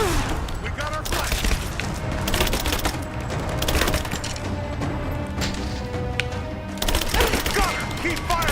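Rapid gunfire in the Rise of the Tomb Raider video game, bursts of sharp overlapping shots and impacts filling the scene while a player talks over the action.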